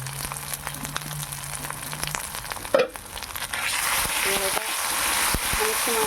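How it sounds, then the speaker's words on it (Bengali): Spices, ginger paste and green chili paste sizzle and fry in a pan while being stirred, a continuous broadband hiss with occasional scrapes and a brief knock partway through. "ভালো করে কষাতে থাকবো"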